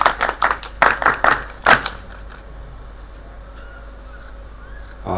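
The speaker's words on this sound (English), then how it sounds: "A big round of applause, please" Round of applause at a military command handover ceremony, several sharp close claps in a quick burst lasting under two seconds before stopping, leaving quiet room tone.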